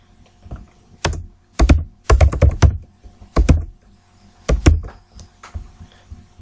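Keys on a computer keyboard clatter in short clusters of taps with pauses between them as Java code is typed, up close in a quiet room.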